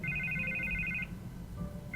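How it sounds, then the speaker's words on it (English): A telephone rings in the video game Batman: The Telltale Series, with a rapid electronic trill for about a second that pauses and then starts again, heard clearly over a low room hum. "I can't get the phone to stop ringing"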